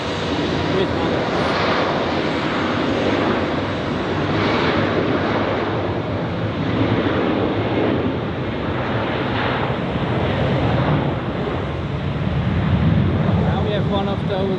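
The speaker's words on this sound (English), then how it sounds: "Now we have one of those Helvetic temporaries which have parked down here, taxiing to the runway." A Helvetic airliner taxis toward the runway at Zurich Airport, its engines producing a loud, continuous broadband rumble with gentle swells, joined by wind noise and talking.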